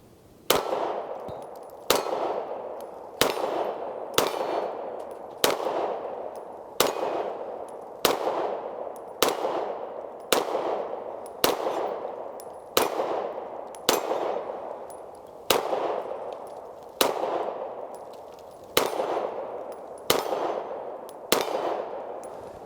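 Sar USA B6 pistol, a CZ75 clone, firing 124 grain Fiocchi ammunition from a CZ mag, with about sixteen sharp, loud shots at a steady, rapid-but-deliberate pace, each followed by a ringing metallic decay.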